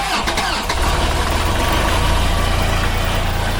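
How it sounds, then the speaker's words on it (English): A 37 horsepower Kubota diesel on a sawmill starts and settles into a steady, loud idle, a low throbbing rumble that runs unbroken through the whole stretch with no talk. "We'll fire up the engine. So this model has a 37 horsepower Kubota diesel."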